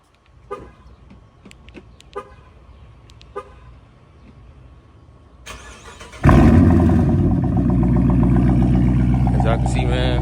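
A Chrysler 300 cranks and its engine catches after several seconds of quiet, with a few faint clicks beforehand, then settles into a loud, close, steady idle with a rich low rumble that continues to the end.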